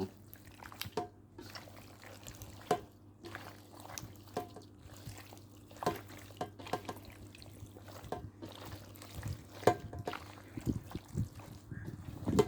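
Salted catfish rinsed in water gives soft, faint splashes, drips and trickles in an irregular pattern, quiet and close over a low background hum.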